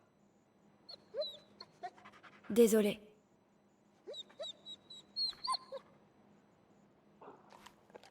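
A dog in the video game Marvel's Guardians of the Galaxy gives short, high whimpers and pants in scattered bursts, fairly faint, with a brief louder noise in between and someone speaking.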